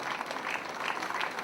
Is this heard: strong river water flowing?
no